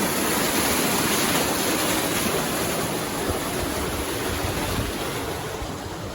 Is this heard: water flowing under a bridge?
yes